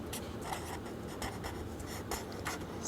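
Chalk or pen strokes from a maths lesson, a run of brisk scratchy taps and short scrapes, close and steady, with no talking.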